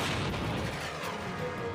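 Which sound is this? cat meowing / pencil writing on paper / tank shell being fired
tank shell being fired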